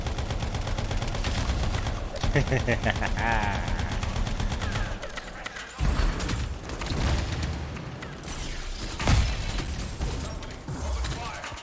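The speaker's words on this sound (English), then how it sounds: "My LMG is better than yours." A light machine gun in a PS4 video game fires long, loud rapid bursts with brief pauses between, dense continuous gunfire with other game sounds mixed in.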